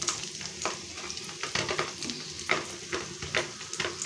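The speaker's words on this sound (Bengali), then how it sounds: "আর ডিম ভাজি করবো, ভাত খাবো।" Eggs fry quietly in a pan at home, a soft, continuous sizzle broken by light scraping and stirring taps of a utensil against the pan.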